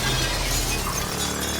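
A window is smashed with a wrench in the video game Prey: a loud, dense burst of shattering glass fills the whole moment without pause.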